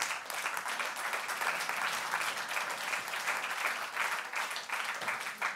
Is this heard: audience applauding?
yes